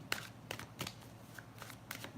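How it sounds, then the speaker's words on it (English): A deck of tarot cards shuffled close by, with crisp riffling bursts and soft slaps repeating at an uneven pace, fairly quiet. "I'm just shuffling the deck in case anyone else wants a reading"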